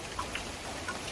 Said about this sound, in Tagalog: Umuulan-ulan guys.